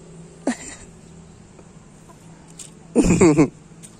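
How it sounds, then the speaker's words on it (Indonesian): Two short bursts of clucking from a nearby chicken, one brief and faint, then a louder, more emphatic cluck a few seconds later. "ayam"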